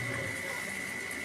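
Water runs steadily into a Samsung automatic washing machine as it fills, giving a continuous hiss and gush with a faint pump hum, fairly quiet and with no talk.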